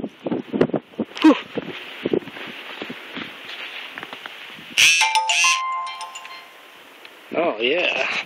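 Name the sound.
phone text message notification ringtone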